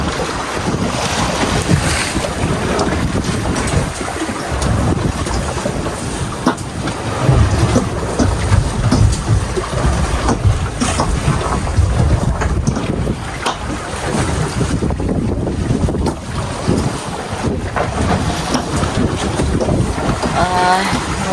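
A boat moving over the sea on a squid fishing trip off Kuantan, Malaysia, with a constant loud rumble of engine and water, heavy wind buffeting the microphone and waves slapping throughout.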